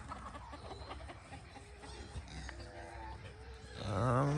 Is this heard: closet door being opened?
no